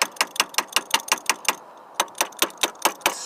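Rapid ratchet clicking from a hand wrench loosening the terminal nut on a car battery post, a steady run of sharp close clicks, a brief pause, then a second run of clicks.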